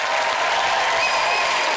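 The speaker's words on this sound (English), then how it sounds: "I'd like you to give a big round of applause from Sir Alex, South Wales." Studio audience at a comedy show breaks into applause, a brief, dense and loud burst of clapping with no talk.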